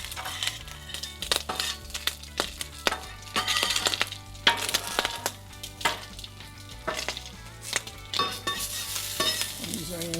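Burgers and onions sizzle and fry steadily on a grill, with frequent scraping and stirring clinks of a spatula throughout, loud and close, and a low musical hum underneath.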